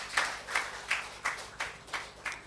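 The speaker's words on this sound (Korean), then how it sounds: "우리 하나님께 박수 올려드려요." A church congregation claps in a steady, even rhythm at a Sunday service, about seven distinct claps in quick succession, moderately distant and fairly soft.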